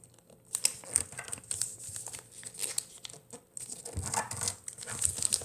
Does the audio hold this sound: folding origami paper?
yes